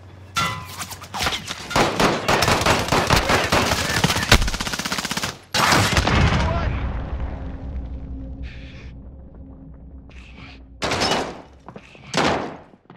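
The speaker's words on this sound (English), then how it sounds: "Taking fire over here." Rapid automatic gunfire rattles in the video game Call of Duty: Modern Warfare during a Resurgence match, long loud bursts up close, then a quieter tail with a few later short volleys.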